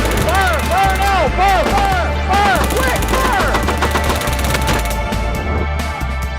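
Tank guns firing at a Hetzer in a tank warfare video game: rapid, loud machine-gun bursts rattle continuously over a droning engine and whining effects, close and dense throughout.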